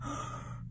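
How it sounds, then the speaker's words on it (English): A short, breathy yawn from a storyteller voicing a pug, close and soft, a single drawn-out exhale fading at the end. "says Pug with a yawn"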